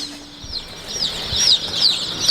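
About 200 young chickens crowd a 6x4 galvanised trailer brooder lined with sawdust and newspaper and warmed by a fan heater, filling it with continuous high-pitched peeping and cheeping, close and fairly loud.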